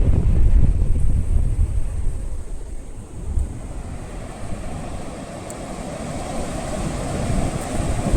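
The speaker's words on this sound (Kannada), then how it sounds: "ಅಲೆಗಳು ನೋಡ್ರಿ ಹೆಂಗೆ ಬರ್ಲಾಕತ್ತಾವ" Ocean waves at Ware Beach roll in loud and close, a deep rumbling wash that swells and recedes under heavy wind buffeting the microphone.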